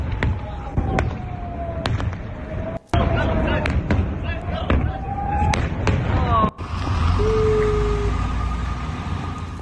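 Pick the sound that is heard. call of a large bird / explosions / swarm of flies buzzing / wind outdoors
explosions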